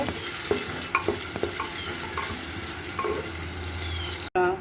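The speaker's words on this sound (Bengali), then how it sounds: "পেঁয়াজ রসুন আমার ভাজা হয়ে গিয়েছে" Onion and garlic frying in a pan while beef is cooked, a steady sizzle with repeated stirring clatters of a utensil, close and continuous, cutting off abruptly near the end.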